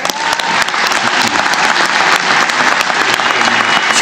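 Loud, sustained applause fills a legislative chamber, dense clapping from a large crowd that stays steady and close throughout without any speech.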